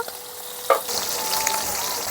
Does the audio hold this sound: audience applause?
no